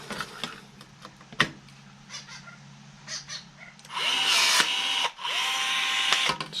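Milwaukee M12BPRT-0 cordless riveter setting a rivet in aluminium: a short whirring motor run with mechanical clicks, ending in a sharp snap, amid quieter handling noises.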